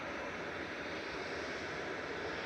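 An Aer Lingus airliner arrives at Manchester Airport, a steady broadband engine roar held at an even, moderate level throughout, with no talk.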